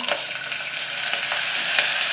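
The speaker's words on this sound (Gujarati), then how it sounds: "હવે તેને હલાવી અને આને ત્રણથી ચાર મિનિટ માટે આ રીતે અમને સતળાવા દઈશું" Papdi beans, tuvar and peas sautéing in hot oil with ajwain, dried red chillies and asafoetida for Kathiyawadi undhiyu, a loud, steady close sizzle with light stirring strokes.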